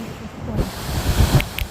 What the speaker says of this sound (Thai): ลมแรงมากนะจ้าวันนี้เนี่ย